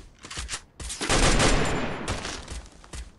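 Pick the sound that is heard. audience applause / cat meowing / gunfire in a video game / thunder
gunfire in a video game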